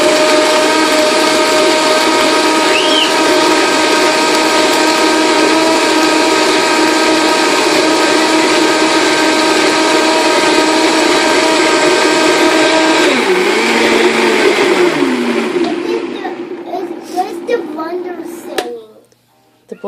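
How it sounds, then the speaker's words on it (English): Blender running flat out at turbo speed, blending a smoothie with dates: a loud, steady high whine with a dense motor hum that holds for about fifteen seconds, then wavers and winds down as the motor slows and stops. "The blender is blending"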